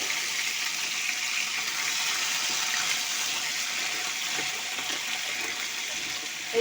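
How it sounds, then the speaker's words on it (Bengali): Crabs frying one by one in hot oil for a Bengali crab jhal, a steady, loud hissing sizzle that holds evenly throughout with no talk. "তেলটা গরম হয়ে গেছে, আমি একে একে এখানে এই কাঁকড়াগুলো ভালো করে দিয়ে একটু হালকা নেড়ে চেড়ে ভেজে নেব।"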